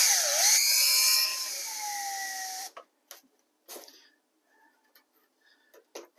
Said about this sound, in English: I'm going to use some drywall screws, which you can go right through the foam with.